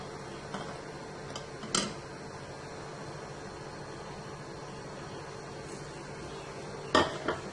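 A spoon stirring vegetable chicken corn soup in a pot: quiet, sparse clinks against the metal with long calm gaps, close by and faint, and a couple of louder knocks, no talking.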